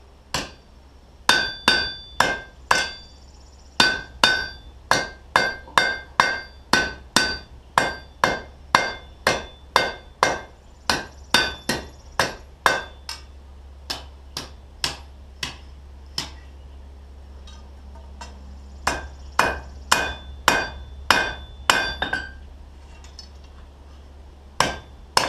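Blacksmith's hammer striking metal on an anvil in a steady series of sharp, ringing blows, fast and regular at first, then spaced more unevenly, with a low hum throughout.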